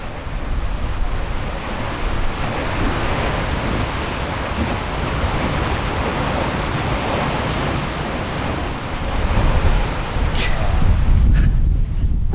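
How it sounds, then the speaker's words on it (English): Strong wind buffets the microphone in a steady, loud, broadband roar, swelling toward the end in a windy coastal town, with surf-like rushing throughout. "It is windy here."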